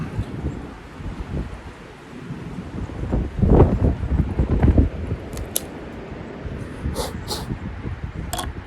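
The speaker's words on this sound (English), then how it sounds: "the breeze kicking through, it's a little bit, you know, a little brisk" Outdoor breeze rushes in a gusty, uneven wash of wind noise across the microphone, swelling midway, with a few faint crisp rustles near the end.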